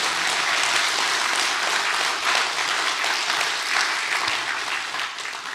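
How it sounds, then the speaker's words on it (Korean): Steady, dense applause from a church lecture audience fills the space, thanking God for faith and prayer, holding evenly loud throughout with no voices over it. "우리 이렇게 큰 신앙과 기도를 지켜주신 하나님께 감사의 박수 올려주시면"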